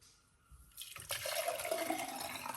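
Juice is poured out in a short, close splashing stream that starts after a brief quiet moment and runs steadily to the end.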